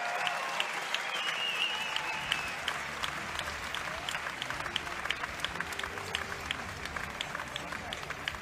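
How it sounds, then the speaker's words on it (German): An arena crowd at an MMA event in Munich applauds after a short, hard-fought welterweight bout, a sustained wash of clapping with scattered sharp claps and cheers, moderately distant and steady throughout. "es darf laut geklatscht werden"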